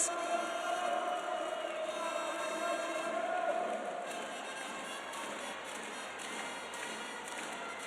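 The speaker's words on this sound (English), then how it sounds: "They haven't stopped cheering and waving flags all night" Volleyball crowd in an arena during a Champions League playoff match between Halkbank Ankara and Cucine Lube Civitanova, a steady distant roar of fans cheering throughout, slightly louder in the first half, without clear speech.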